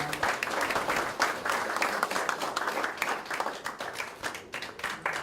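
Applause from an audience at a Daejeon association inauguration ceremony, greeting a newly appointed vice president. Steady, dense clapping fills the whole stretch at moderate volume with no talk over it.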